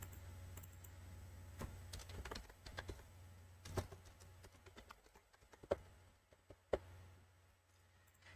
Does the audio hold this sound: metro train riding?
no